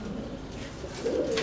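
A young pigeon squab gives soft, low cooing calls over a steady background hiss, swelling slightly louder near the end.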